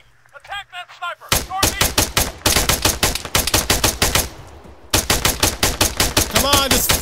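Gunfire in the video game Arma 3, dense rapid bursts of automatic fire, loud and close, coming in long rattling runs with short pauses between them.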